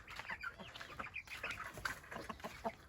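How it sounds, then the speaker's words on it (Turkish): A group of chickens clucks and chatters continuously, a busy overlapping flock heard at moderate distance without any talking. "tavuklarım beni bekliyor"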